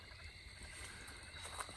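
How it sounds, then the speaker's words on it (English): Crickets chirping at night in the woods, a faint, steady high-pitched trill over a soft low background hum, with no voices. "Oh man, it's a beautiful night. Hear the crickets?"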